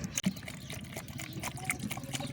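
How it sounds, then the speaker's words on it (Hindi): Water is poured into a lemon-and-salt mixture for shikanji, a splashing, trickling stream heard outdoors with faint background chatter. "अब पानी डालेंगे"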